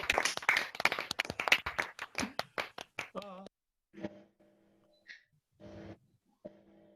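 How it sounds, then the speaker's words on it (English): A burst of dense, rapid clapping from engineering graduates on an online 2021 graduation call lasts about three seconds, then thins into a few scattered taps and faint tonal bleeps and voices with quiet gaps between. "Please unmute yourself and cheer clap for each other."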